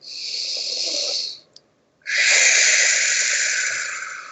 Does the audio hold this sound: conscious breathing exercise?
yes